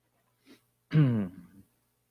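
A single throat clearing: a short faint catch, then one louder rasping, voiced hack that fades quickly, with no talking around it.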